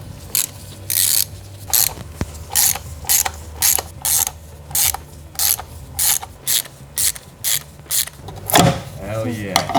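A ratchet backs out screws from the valve cover of a Volvo V70 D5 engine, with short, loud, rapid clicking bursts repeated roughly every half second throughout.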